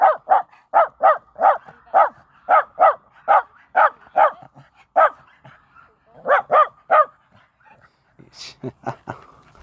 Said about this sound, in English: Hold on a second, there's a dog warning here. And a nice collie.